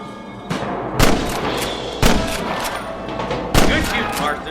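Several loud gunshots ring out in Red Dead Redemption, about four sharp reports spaced roughly a second apart, each trailing into a short echo over a low background rumble.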